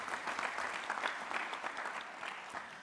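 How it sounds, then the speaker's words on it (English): Audience applause at a plenary session of a global forum, a steady round of clapping from a crowd that holds level throughout, with no talk over it. "Round of applause as well."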